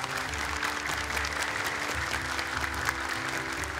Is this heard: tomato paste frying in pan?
no